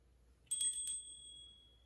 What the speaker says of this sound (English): I'm gonna ring it again.